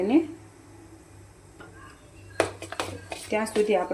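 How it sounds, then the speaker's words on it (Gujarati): A spoon scrapes and stirs thick dahi vada batter in a bowl, with scattered clinks against the sides, and someone talks toward the end. "એને આવી રીતે હલાવીને મિક્સ કરવાનું છે"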